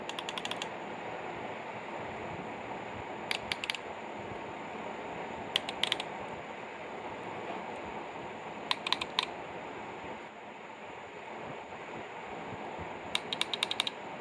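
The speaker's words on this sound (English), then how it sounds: "go through one by one and see if they click" Automotive relays on a rooftop build, powered by an 18-volt Milwaukee battery, click in quick sharp pairs and small clusters spaced a few seconds apart over a steady background hiss.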